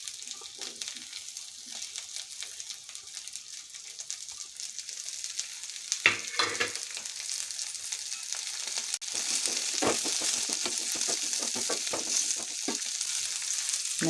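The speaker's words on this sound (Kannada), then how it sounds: "ಎಣ್ಣೆಯಲ್ಲಿ ಚೆನ್ನಾಗಿ ಹುರಿಬೇಕು ಹಸಿಮೆಣಸು" Green chillies fry in plenty of oil for a hing chilli pickle, a continuous close sizzle broken by occasional spoon scrapes and stirring clatter, growing hotter and louder partway through.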